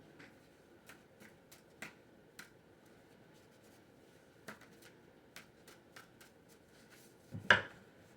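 Tarot or oracle cards are shuffled for a reading: a quiet series of crisp, separate card flicks and taps spaced irregularly, ending in a slightly louder rustle, with no talk.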